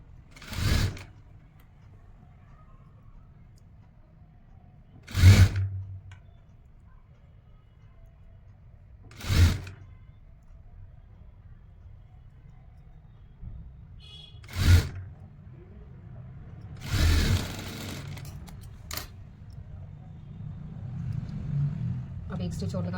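A sewing machine stitching fabric for a baggy winter shirt sleeve in short bursts: five distinct runs of stitching a few seconds apart over a low steady hum, with the last stretch a longer, more continuous rumble.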